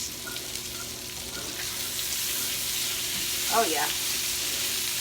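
Sausage and cabbage sizzle steadily in a pan, a moderate crackling fry that runs continuously. A brief voice speaks partway through.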